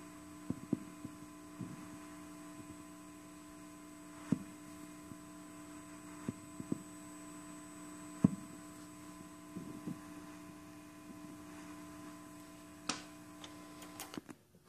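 Barkhausen noise from magnetic domains flipping in a nail core inside a solenoid: sparse, faint irregular clicks and pops scattered over a steady low electrical hum, quiet and close.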